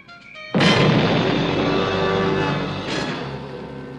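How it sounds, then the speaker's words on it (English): A single cannon shot: one sudden loud boom that opens into a long, rolling rumble, with a second swell a few seconds later as it slowly fades, and no voices. "That was probably a cannon shot"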